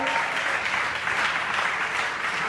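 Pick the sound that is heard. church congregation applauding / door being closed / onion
church congregation applauding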